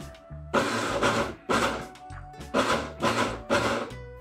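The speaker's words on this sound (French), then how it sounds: "Mixez avec la fonction Ice Crush si vous l'avez ou par à-coup de 15 à 20 secondes" A blender pulses through a red fruit and açai smoothie mix in repeated short bursts, each a loud grinding roar separated by brief low thumping pauses, close and steady with no talk.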